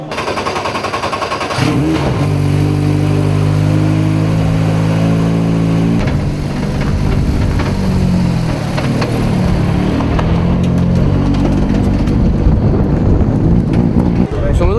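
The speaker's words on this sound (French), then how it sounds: "quand on est à bloc avec une voiture de course comme celle-ci, il y a quand même de la vitesse" A race car engine at full throttle during a 1000 km endurance race in 2024, revving hard with rising pitch through gear changes, loud and close, with someone talking over the engine noise.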